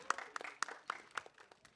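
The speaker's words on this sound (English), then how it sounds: "Can we have a huge round of applause for Bobby sir?" Sparse applause for Bobby Deol from an audience, a few distinct claps ringing out at irregular intervals over a thin background of scattered clapping, fairly quiet overall.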